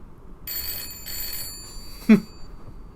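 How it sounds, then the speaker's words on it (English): A telephone in a bookshop rings in two or three short electronic bursts, followed by a brief thump as it is picked up. "I'd like you to call the telephone in my bookshop, please."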